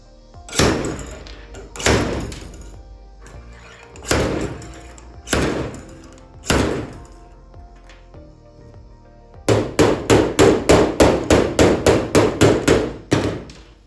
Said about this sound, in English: I'm gonna put the slide hammer on here.